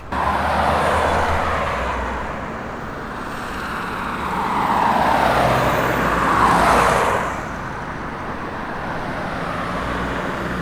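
Cars roll through a large highway toll station, engines and tires swelling and fading as vehicles pass nearby, one louder car rushing by midway over a steady traffic hum.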